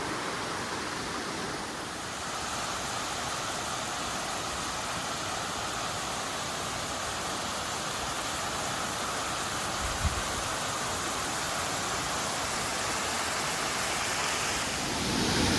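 Steady broadband rush of a waterfall spilling between interconnected lakes along a forest walkway trail, constant and full throughout with no voices, a single faint knock partway through.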